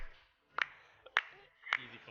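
Three sharp claps from a clapping emote in a multiplayer video game duos match, spaced about half a second apart and fairly quiet over a low background.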